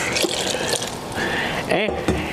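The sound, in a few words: pouring water into flour mixture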